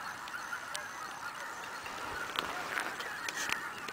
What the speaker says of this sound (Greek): Εκατομμύρια χήνες.